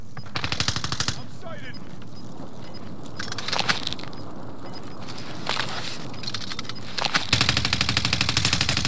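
Gunfire in the online shooter game Call of Duty Warzone: loud rapid automatic bursts and single shots in several clusters, with a long sustained volley at the end, alone without talk.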